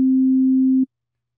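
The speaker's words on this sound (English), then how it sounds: "Now for oscillator A, we have a sine wave." A pure, steady sine-wave tone from oscillator A of the Operator synthesizer in Ableton Live, held alone at even loudness for under a second before cutting off cleanly.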